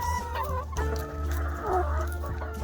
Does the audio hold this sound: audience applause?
no